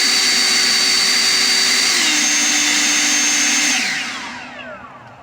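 An EGO leaf blower on its boost setting gives a loud, steady roar that rises slightly in pitch partway through, then winds down and fades as it stops.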